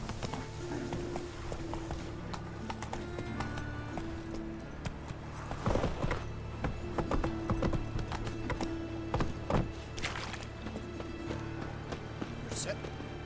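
A horse named Roach clip-clops along at a steady walk, the hoofbeats close and rhythmic, with people talking throughout and a brief whinny.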